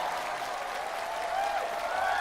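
Warm applause from a studio audience welcoming a singer on stage at a televised show, steady continuous clapping at a moderate distance throughout.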